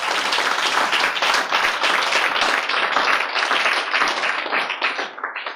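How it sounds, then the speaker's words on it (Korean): A church congregation at a pastors' seminar claps together in a dense, continuous burst of applause that stays loud and steady before tapering off at the very end. "자, 박수로 주님께 영광 돌립니다."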